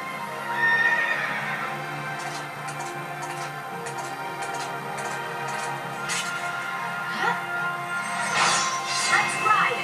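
A war horse in Final Fantasy XIII whinnies loudly and close, a shrill neigh near the start and another toward the end, over hoof clatter and a layered game soundtrack, with a voice speaking briefly.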